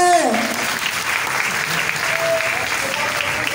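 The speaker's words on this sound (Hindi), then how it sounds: "तालियों में कंजूसी ना करें।" Sustained audience applause at a Diwali celebration, a dense, even wash of many hands clapping, loud and close, with faint voices beneath.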